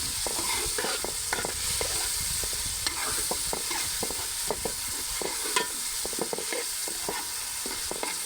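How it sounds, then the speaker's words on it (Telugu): Green chili chutney, ground beforehand, is stirred into hot tempering in a village-style kitchen, giving a steady close sizzle and frying hiss with repeated scraping clicks of the spoon against the pan throughout. "ముందుగా నూరు పెట్టుకున్న పచ్చడి పోపులో వేసుకుంటున్నాను"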